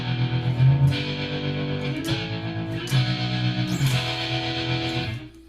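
Inexpensive distortion pedal, about 39 dollars, driving an electric guitar: sustained, saturated chords ring out with fresh strums near 1, 2, 3 and 4 seconds, loud and close, with no voice over the playing.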